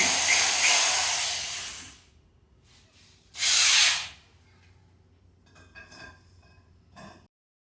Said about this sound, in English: I stripped it out, and I'm just going to drill it out.